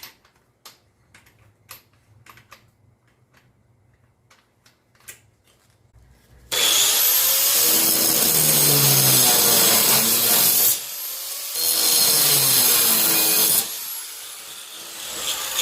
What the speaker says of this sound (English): Go on that cutting disc.